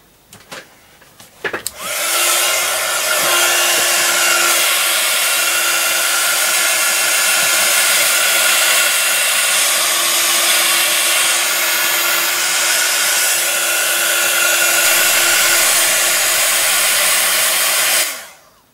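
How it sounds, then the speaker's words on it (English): Heat tool blasting hot air to dry paint on a napkin decoupage craft project with clay elements: after a few brief clicks it switches on and runs as a loud, steady, whooshing roar with a constant whine for about sixteen seconds, then cuts off. "we're going to use the heat tool to actually dry that"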